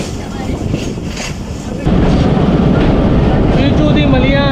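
Ravi Express train on the Lahore to Nankana Sahib line at Chichu ki Malian station, a steady loud rumble with wind noise that grows suddenly louder partway through, with faint voices underneath.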